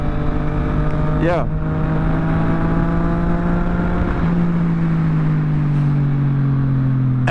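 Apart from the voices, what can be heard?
Yamaha MT-09 motorcycle exhaust while riding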